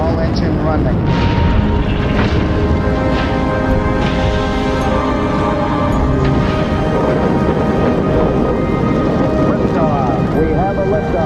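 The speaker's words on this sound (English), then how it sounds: "We have a liftoff, 32 minutes past the hour. Liftoff on Apollo 11." The Saturn V rocket engines of Apollo 11 roar at liftoff, a dense, loud, continuous rumbling blast lasting throughout, with a voice talking over it.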